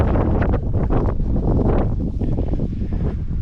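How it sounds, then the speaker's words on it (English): Steady, loud desert wind buffeting the microphone at the pyramids of Unas and Teti, Egypt, a continuous low roar with gusty swells throughout and no voices. "it's windy out here today."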